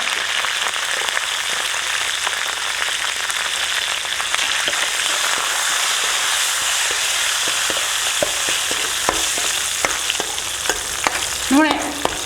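Spices and curry leaves temper in hot oil for an aloo curry, giving a close, continuous crackling sizzle with scattered sharp pops and occasional stirring clinks, and a brief tonal squeak near the end.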